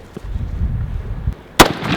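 A single sharp rifle shot fired at a steer on a farm, loud and abrupt near the end, after a stretch of low outdoor rumble and faint handling noises.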